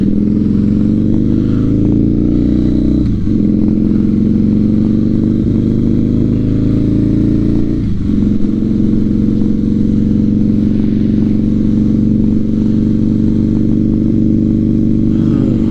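A motorcycle rides steadily along a road, a loud continuous engine drone with wind rush close to the rider, briefly dipping twice as it shifts gears.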